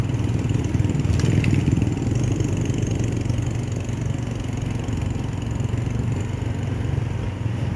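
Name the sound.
motorcycle with sidecar engine running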